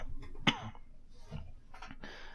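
A single sharp cough, close and alone, followed by a few faint throaty breaths and rasps.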